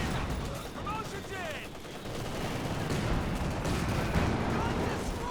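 Mortar and artillery fire rumbling through a Company of Heroes 2 battle, with a double mortar shelling infantry at close range; dense, continuous booming and crackling explosions layered loudly, with faint whistling shells overhead.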